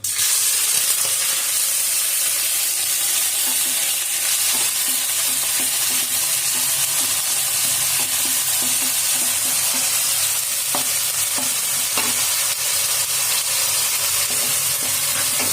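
Finely chopped onions frying in a pan for palak paneer, a loud, continuous sizzle and hiss with a steady rhythm of spatula stirs and scrapes, heard close up with no talking.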